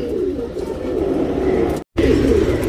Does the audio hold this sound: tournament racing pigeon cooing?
yes